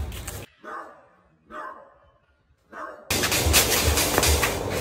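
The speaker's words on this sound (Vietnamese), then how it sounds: "Con chó nó sủa." A dog gives three short, muffled barks spaced about a second apart, followed by louder, noisy commotion.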